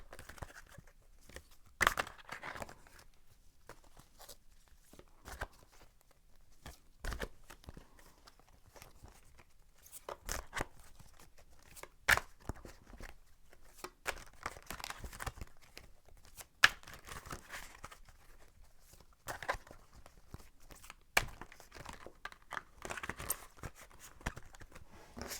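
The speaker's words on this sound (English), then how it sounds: "I'll shuffle the cards and see what cards come up" Tarot cards being shuffled by hand, a run of quick papery riffles, slaps and crinkles in irregular bursts, close and fairly quiet with no talking.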